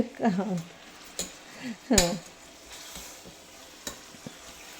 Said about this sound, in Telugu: చూసారా ఎంత బాగా కలుపుతున్నాడు